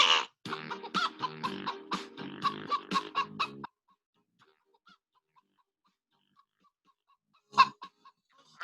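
Chickens cluck and squawk in a rapid, busy run close by, then fall silent before one more brief cackle near the end.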